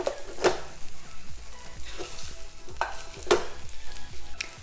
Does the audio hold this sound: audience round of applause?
no